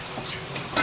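Onion and garlic fry in a pan for a brief moment, a close, dense sizzle with soft crackles, with no voices.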